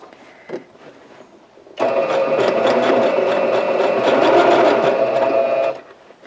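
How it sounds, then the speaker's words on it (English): Sewing machine stitching a quarter-inch seam on a handbag gusset runs steadily and close for about four seconds, starting abruptly after a brief quiet click and stopping cleanly, with no talking. "Okay, so now I'm sewing the gusset in."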